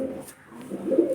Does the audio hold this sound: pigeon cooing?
yes